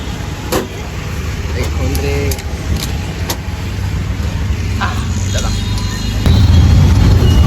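An auto rickshaw engine idles steadily close by, its low hum growing louder near the end, with people talking over it.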